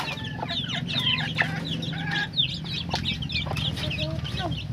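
Several chickens cluck and squawk busily close by, a restless overlapping chorus with a low hum underneath.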